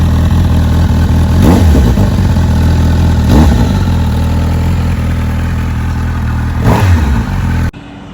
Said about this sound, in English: Let's fire her up. 4-cylinder sound on this.